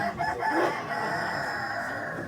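A rooster crows loudly and continuously at a chicken auction, the call stretching on without a break while a faint background hiss sits underneath.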